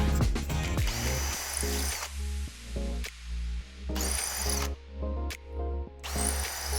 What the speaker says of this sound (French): vous les utilisez à présent comme gabarit pour forer le béton cellulaire